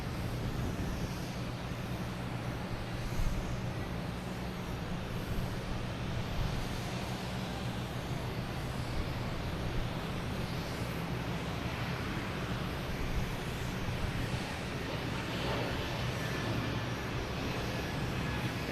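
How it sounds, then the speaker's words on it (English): A JetBlue airliner bound for Fort Myers takes off at Boston Logan Airport, a sustained, even jet engine roar with a low rumble that stays steady from a moderate distance, with no talk. "Next to take off, we have JetBlue heading to"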